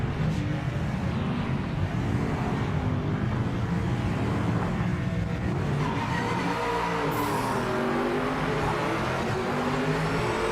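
Alpine GT4 race car in the Project Motor Racing video game, its engine droning steadily and loudly throughout with rising and falling revs and some tire noise, with no talking.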